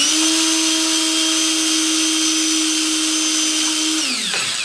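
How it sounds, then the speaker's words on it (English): A power drill spins a plastic yo-yo held against 150 grit sandpaper, giving a steady high motor whine with a smooth abrasive hiss that holds evenly, then the pitch drops sharply as the drill winds down near the end. "make sure you're spinning the drill in the right direction, otherwise it'll unscrew the yo-yo"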